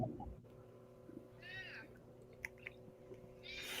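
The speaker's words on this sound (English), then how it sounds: "The little baby cry in the background?" A house cat gives a faint, distant yowl much like a baby's cry, heard over a low steady room hum with a few small clicks.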